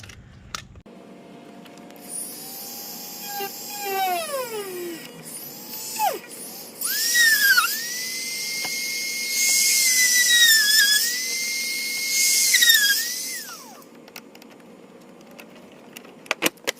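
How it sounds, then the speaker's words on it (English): A rotary tool whines as it drills a hole in a broken car bumper tab on an Infiniti Q50, its pitch rising and dipping in a few long bursts, loud and close with no talking. "So I'm going to go and start making my hole with the 200 series."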